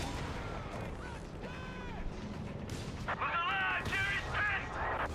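Stuka dive bomber strike in the Company of Heroes 3 game, a dense barrage of booming explosions and gunfire with a rising whine and crackling bursts, continuous and loud throughout, with commentary voices underneath.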